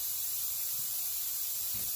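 Steady, fairly quiet hiss of a paint spray gun working inside an enclosed spray space on a Suzuki Intruder paint job, with a couple of soft low bumps that may be sputtering.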